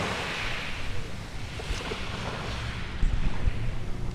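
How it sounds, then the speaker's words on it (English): Sea waves washing over a pebble beach in Monaco, a steady broad rush with wind noise and a slightly louder surge near the end, no voices. "Sitting here watching the waves crash against the pebbles."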